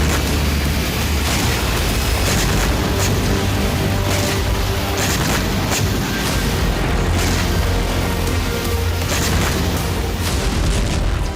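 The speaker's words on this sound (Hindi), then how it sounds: "कई किलोमीटर दूर तक जाकर ड्रोन अब मिसाइल की तरह धमाके कर रहे हैं।" Continuous heavy rumbling and booming from drone strikes in the Russia-Ukraine war, with repeated blasts and bursts, loud and dense throughout, like distant explosions one after another.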